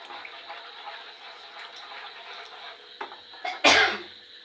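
A single short cough bursts out near the end while cooking mango pulao, following a quieter stretch of running water and kitchen sounds.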